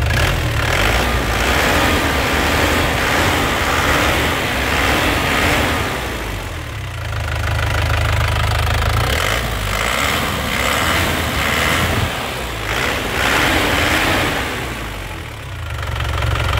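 The engine of a white 2012 Grand Touring car is revved steadily, with a loud, close, continuous rumbling drone that swells and dips slightly over the span, with no one talking.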